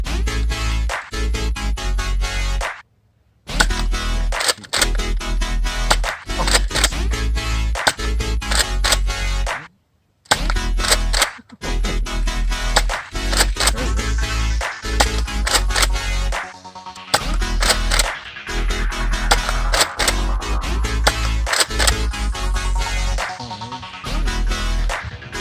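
Customized Nerf Modulus Tri-Strike toy blaster firing, with rapid bursts of sharp mechanical clicks and thumps repeating across the stretch. Loud and close, with a few brief silent gaps between volleys.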